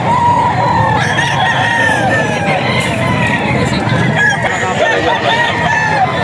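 Several Gilmore Hatch gamefowl roosters crowing and clucking at a busy market in Bocaue, Bulacan, overlapping calls close by amid a noisy crowd with people talking.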